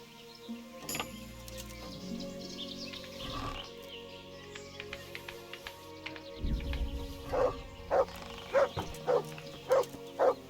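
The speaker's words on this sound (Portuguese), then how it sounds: "Para de latir, cachorro." A dog barking in the video game Kingdom Come: Deliverance, a series of six clear, evenly spaced barks toward the end over a busy game soundscape.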